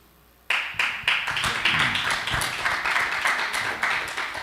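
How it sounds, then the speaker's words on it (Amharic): Audience applause breaking out suddenly and continuing as steady, close, dense clapping with a few sharper individual claps standing out. "ይሄ ጭብጨባ በበጋሽ ምስጋና የተመራ"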